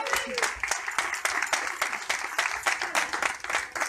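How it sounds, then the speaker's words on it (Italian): A crowd applauding at an outdoor community cycling event, a steady patter of many hands clapping with a little room echo. "un applauso!"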